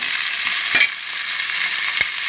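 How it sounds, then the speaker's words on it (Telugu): Onions and green chillies frying in oil for a mutton and drumstick curry, a steady loud sizzle throughout with two brief stirring clatters, no voices. "ఆయిల్ కూడా వేసుకున్నాను ఇవన్నీ ఉల్లిపాయలు పచ్చిమిరపకాయలు వేసుకున్నాను అనమాట"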